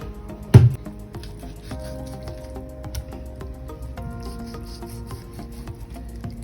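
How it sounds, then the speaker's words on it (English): A kitchen knife is sharpened with quiet, repeated rasping strokes in a steady rhythm, opened by one sharp knock; no one speaks. "I have to sharpen this knife properly so that it doesn't give me issue"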